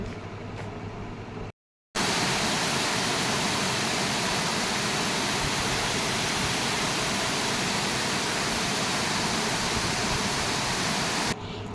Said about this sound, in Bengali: ওখানে ড্যামে জল ছাড়া হয়েছে আর সবাই কত মজা করে স্নান করছে